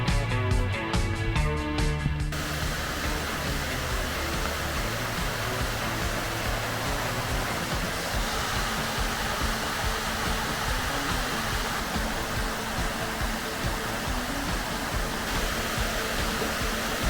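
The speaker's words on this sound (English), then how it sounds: "The falls are a nice slide down the gully." Bridal Veil Falls on Tinker Creek, a waterfall sliding down a gully in Cuyahoga Valley National Park, Ohio, roars as a steady, loud, broadband rush, preceded by a brief tonal passage at the start.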